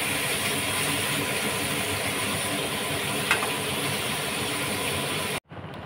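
Pieces of shankar fish fry in hot oil for a fish curry, a dense steady sizzle holding at an even level for several seconds before cutting off abruptly near the end, with no talk.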